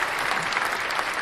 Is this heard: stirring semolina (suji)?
no